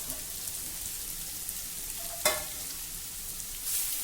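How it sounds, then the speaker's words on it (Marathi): Grated sweet potato sautéed in a pan over a low flame gives a soft, steady sizzle, with one sharp scrape of a spatula partway through and a brief rise in crackle near the end. "मंद गॅसवर आता आपल्याला हा व्यवस्थित परतवून घ्यायचा आहे।"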